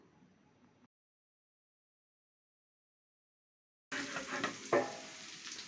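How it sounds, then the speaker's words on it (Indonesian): Food sizzles and stirs in hot oil in a pan after a long silence, a close, steady frying crackle with a few scraping stirs. "ini kita tumis sampai dia harum dan agak matang"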